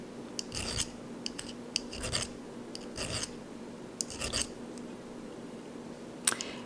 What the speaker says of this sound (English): we're going to take care of that while we're filing down the edge or filing down the back plate